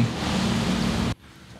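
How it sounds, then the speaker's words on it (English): Steady rain falling outside on a nearly windless day, a dense broadband patter heard up close that cuts off abruptly partway through, leaving only a faint hiss. "It's currently raining outside"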